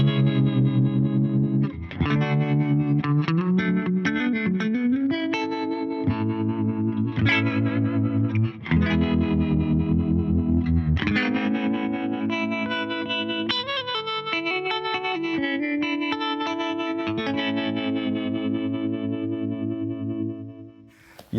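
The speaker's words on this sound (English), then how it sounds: "let's go back to the brown circuit, which is the harmonic, and just have a listen to how this sounds." Guitar played through a Surfy Industries Surfytrem pedal on its brown harmonic tremolo circuit in mono, rich chords and single notes pulsing with a wobbling, swirling modulation, close and loud with no talk.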